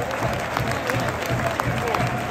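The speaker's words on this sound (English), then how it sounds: "Nice to see the Bournemouth fans clapping him off" Bournemouth fans at a Premier League match against Manchester City clap a former player off the pitch, steady crowd-wide applause heard from within the stands with a voice talking over it.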